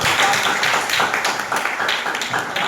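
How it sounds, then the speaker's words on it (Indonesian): Students in a classroom clapping together during a lesson on the human digestive system, a brisk burst of rhythmic hand claps close by, fairly loud and continuous for a few seconds. "Oke, baik, tepuk tangan untuk"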